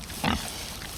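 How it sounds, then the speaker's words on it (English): Pigs on a farm that breeds piglets, giving a brief burst of grunting close by over a steady low farmyard background, with no talking. "These are the pigs."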